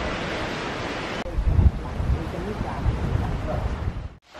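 Rain shower falling by a hotel pool at a Playa del Inglés resort on Gran Canaria, a steady broadband hiss of rainfall with gusty rumbles, fairly close and continuous before cutting off at the end.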